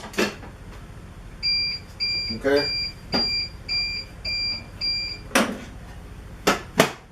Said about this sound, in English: it makes the battery beep.